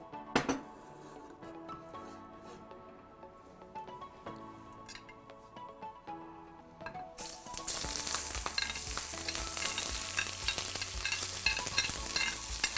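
Onions frying in oil in a home kitchen pan are stirred, first with quieter clinks and scrapes of a utensil, then a loud, steady sizzle that swells and fills the rest of the stretch, with no talk.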